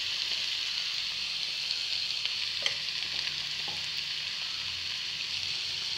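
Broad bean seed curry sizzles steadily in a pan, with light stirring scrapes and occasional utensil taps over a constant hiss, close and without talk.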